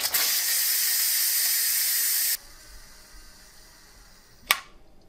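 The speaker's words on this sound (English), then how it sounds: "I'm going to use the quick release." Loud, steady steam hiss from the quick pressure release of an Instant Pot Mini Lux electric pressure cooker, cutting off abruptly after about two seconds, followed by quieter hiss and a sharp click near the end.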